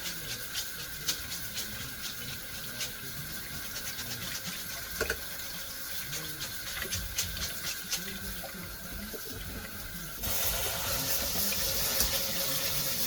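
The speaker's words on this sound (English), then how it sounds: "Be alright if I turned the tap on full, wouldn't it?" Kitchen tap running into a sink while soaked rice is rinsed, a steady close hiss of water that grows louder and fuller near the end as the flow is turned up.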